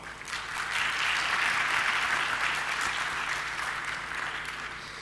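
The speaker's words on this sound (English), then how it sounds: "Let us cherish these 40 years with a big round of applause." An audience gives sustained applause, a dense wash of many hands clapping that swells quickly, holds steady, then eases slightly toward the end.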